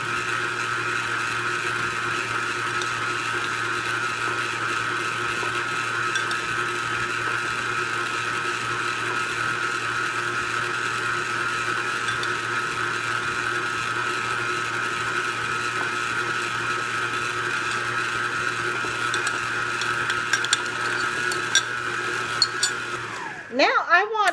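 An electric stand mixer whirs steadily while egg yolks are beaten into German chocolate cake batter, a close, continuous motor hum that winds down at the end as it is switched off.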